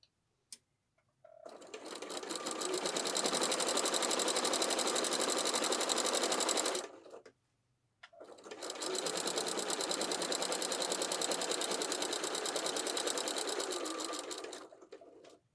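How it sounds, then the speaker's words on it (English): A sewing machine stitches an apron in two long, rapid, even runs of clattering stitches, close and clear, separated by a short pause. "When we get to where the apron is, you want to make sure to backstitch."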